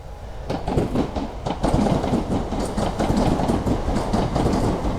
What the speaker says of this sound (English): Oh, train's coming.